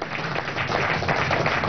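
Applause rises from the command post during the Zamora-200 civic-military exercises in Venezuela, a steady, dense patter of many hands clapping, slightly muffled and continuous throughout.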